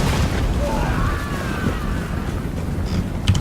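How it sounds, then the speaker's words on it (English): Mortar shells landing in a Total War: Warhammer battle make a dense, continuous low rumble of explosions, with a sharper burst toward the end. "the mortars are falling in on us"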